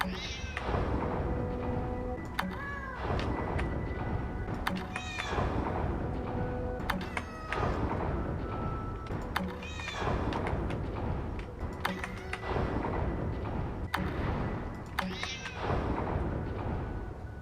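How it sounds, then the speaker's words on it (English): A cat meowing in the video game Lightmatter, several drawn-out mews repeating every few seconds over a steady ambient hum, with sharp clicks and thuds scattered between the calls. "Hello there, Schroeder's cat."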